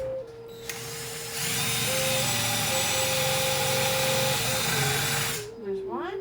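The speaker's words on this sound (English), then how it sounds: "Go ahead and drill it in." A power drill whines steadily for several seconds, its motor pitch holding then dropping as it drives a screw into a shelf bracket, with brief quiet before and after.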